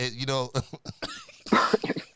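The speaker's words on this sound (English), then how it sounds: "let me clear my throat real quick" A person clears their throat with a couple of rough, cough-like rasps, close up, between bits of speech.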